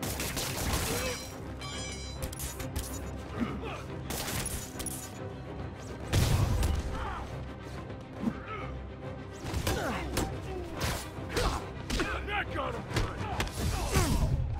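Repeated banging and slamming at an entrance as thugs try to break in, in Marvel's Spider-Man, several loud thuds and crashes spread over the stretch amid game noise and someone talking.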